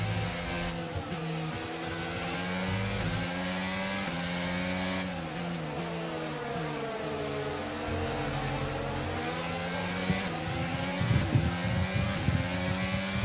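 A Formula 1 car engine from the racing game F1 22 whines continuously through qualifying at Imola, its internal combustion engine worn and losing power. The pitch repeatedly rises and falls through gear changes, with a faint rattle near the end.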